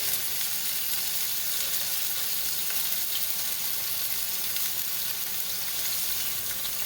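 Pork chops browning in a skillet sizzle steadily and loudly up close, an even, unbroken frying hiss with no talk over it.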